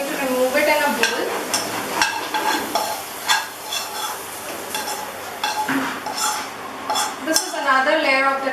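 Cooked apples scraped and spooned from a pan into a bowl, with repeated clinks of a utensil against cookware and soft scraping, brief bursts throughout at close range.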